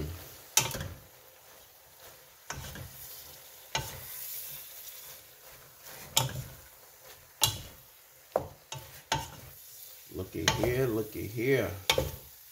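A spoon stirs cabbage frying in a pot for Creole cabbage, with steady sizzling and scraping under repeated sharp clinks against the pot, growing busier toward the end.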